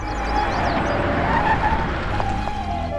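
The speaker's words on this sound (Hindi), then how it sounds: "चीफ सेक्रेटरी की गाड़ी आ रही है, उनके हॉर्न से ही पता चल रहा है।" A chief secretary's official car arrives in an Indian action film scene, with a loud engine surge and tire-squeal-like rush plus a couple of short horn toots near the end.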